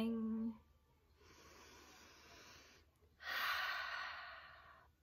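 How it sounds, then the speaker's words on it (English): Slow, deep breaths heard alone and close up: a brief voiced tone, then a long soft inhale followed by a louder, longer exhale, as if calming down. "take some deep breaths"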